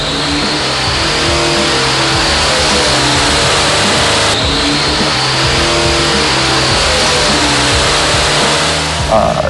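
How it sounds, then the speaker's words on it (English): A 528 cubic inch racing engine of about 800 horsepower roars on a dyno, very loud and sustained at high revs, with a brief dip in the middle before pulling hard again. "this is what 528 cubic inches pushing 800 horses sounds like"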